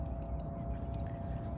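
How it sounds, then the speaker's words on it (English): A brown-headed duck in a park gives a quick series of raspy quacks, close and fairly loud over low background rumble, with no talking. "Now that brown-headed duck is beautiful."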